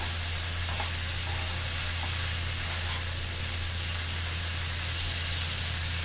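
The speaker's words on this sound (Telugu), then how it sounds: "చూడండి ఈ విధంగా తిప్పుకుంటూ వేయించుకోండి" Broad beans stir-fried in a pan with a pinch of turmeric give off a loud, steady sizzling hiss that runs evenly and unbroken from start to finish, with no one talking.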